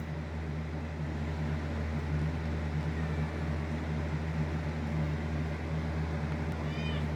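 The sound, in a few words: cat meowing to leave the room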